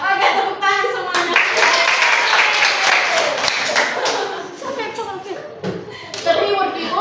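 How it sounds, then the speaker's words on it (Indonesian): Young children in an elementary school classroom clap hands together in a loose burst, mixed with loud kids' voices and chatter, fading then rising again near the end. "Oke, tepuk tangan semuanya"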